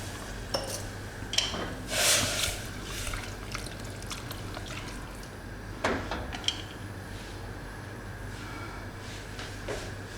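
Water is poured into a pot of sambhar sweetened with jaggery, giving a few short splashing, trickling bursts over a steady low kitchen hum.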